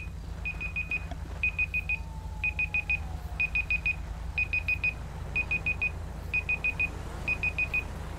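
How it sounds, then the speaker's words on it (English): A timer alarm beeps in insistent clusters of rapid, high electronic pips, each burst separated by short gaps and repeating steadily, fairly loud over a low background hum. "my timer's going off."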